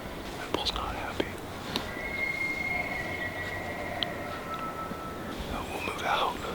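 Distant elk bull calling in Washington State hunting country, thin drawn-out bugle tones rising and fading over about two seconds, faint against outdoor hiss with a few soft clicks and low whispering nearby.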